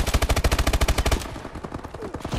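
Rapid automatic gunfire in the Call of Duty Advanced Warfare video game: a loud, steady stream of evenly spaced shots that breaks off into a more ragged, scattered crackle, with no talking.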